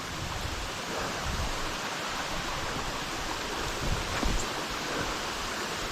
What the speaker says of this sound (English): We have arrived at Greenland Creek Falls.